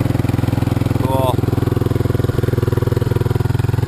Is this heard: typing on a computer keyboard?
no